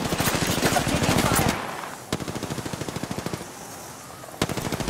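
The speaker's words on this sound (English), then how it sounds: "Taking fire." Rapid automatic gunfire in Apex Legends, a loud sustained burst followed by a quieter, more distant stream of rhythmic shots and a couple of single sharp reports.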